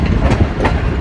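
Millat Express passenger train rolling slowly onto a loop line at a Pakistani station, a steady rumble of wheels and railcars with faint clickety-clack, loud and continuous without speech.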